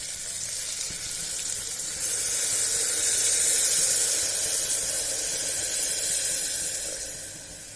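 Hot water poured into sizzling mutton curry masala, a loud steady hiss and steamy sizzle that swells in the middle and slowly eases, close and without talking.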